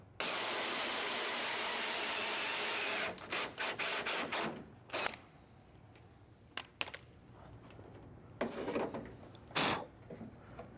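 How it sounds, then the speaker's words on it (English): A steady whirring drill bores a hole through a car hood into a wood block for a Quik-Latch, runs for a few seconds, then stops, followed by scattered scraping and knocking sounds. "put the block of wood underneath of it, and that way we got something to drill into"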